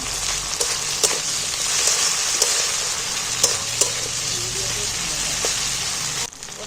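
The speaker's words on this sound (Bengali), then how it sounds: "আর এটা তেলের মধ্যে একটু ভেজে নিচ্ছি" A fish head and tomato fry in oil with a loud, dense, close sizzle, broken by several sharp spatula clinks and stirring scrapes, before the sound drops off abruptly near the end.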